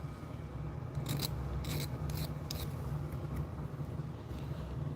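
Small metal burrs being filed off by hand: four or five short rasping strokes in quick bursts over a steady low hum, fairly close.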